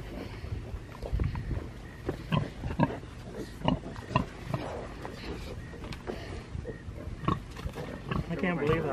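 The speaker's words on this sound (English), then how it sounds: "The mother pig does not want us to get her babies." A protective mother pig grunts and squeals repeatedly in rough, uneven bursts near her piglets, loud and close, with people talking over the noise at times.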